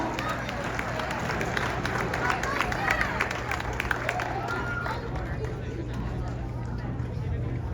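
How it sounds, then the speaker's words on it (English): Audience applause at a school athletic banquet: a steady wash of clapping from a crowd in a hall, continuous and fairly loud throughout with a faint crowd murmur mixed in. "Let's give them a big round of applause."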